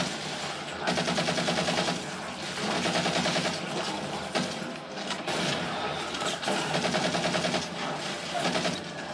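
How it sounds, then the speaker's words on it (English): Rapid machine-gun bursts in Halo 4 rattle out in several sustained volleys, steady and fairly close, with short gaps between bursts and a faint voice now and then. "Let's go machine gunning now."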